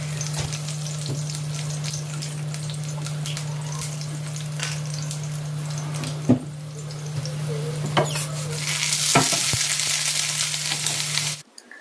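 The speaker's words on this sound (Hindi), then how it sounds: "सब्जी वगैरह काट करके मैंने सब्जी छौंक दी" Chopped vegetables are tempered and stir-fried in a pan in a home kitchen, a loud continuous sizzle with occasional scrapes and clinks of stirring, close up and alone, with a steady hum beneath before it cuts off.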